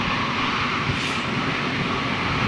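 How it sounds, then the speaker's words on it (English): A Qatar Airways jet airliner passes with a steady, broad roar that holds at close range throughout, with no voices. "so here we go. This is a beautiful aircraft."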